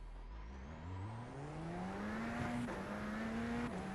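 A Radical SR10 race car launches from a standstill, its engine revving up through a rising whine and bouncing off the rev limiter, heard from inside at moderate level.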